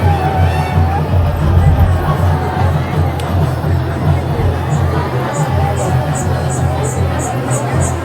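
Dense crowd commotion at the Hiriyadka full-moon temple fair, a constant loud babble of many voices and shouts with a low droning undertone, close and unbroken throughout.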